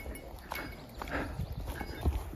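A five-year-old mare's hooves clip-clop along a mountain trail with nomadic herders in Kashmir, a soft, irregular run of hoof falls heard fairly close with no talk.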